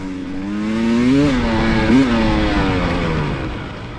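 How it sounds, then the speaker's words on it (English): A dirt bike engine revs hard during a hare scramble race, its pitch climbing, dipping and climbing again. The loud, close, sustained roar continues without any voices. "you can hear that motor singing"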